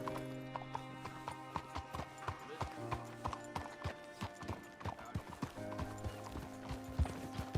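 Horse hooves clip-clop steadily in Red Dead Redemption 2 in an even, rhythmic trot, close and clear, with a brief whinny and faint mechanical rattling beneath.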